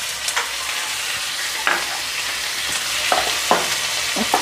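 Peanuts and potatoes frying in a pan for samosa filling give a steady, bright sizzle, with scattered clicks and scrapes of stirring breaking through it at close range.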